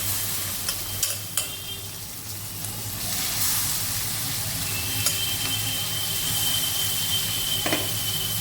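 Boiled banana flower frying with spices in a pan, a continuous close sizzle with scattered stirring clicks and scrapes and a faint steamy hiss throughout.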